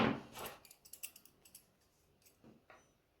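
A few soft, close snips of scissors cutting crochet yarn, a quick cluster of light clicks followed by a couple of fainter cuts in a quiet room.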